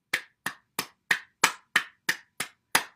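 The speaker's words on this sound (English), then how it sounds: "Then we now move to clapping, inside elbows, underarms, and window of the lungs." Open hands clap against the inside elbows, underarms and chest in a morning bouncing routine: nine sharp, close slaps at a steady, even rhythm, with no talking.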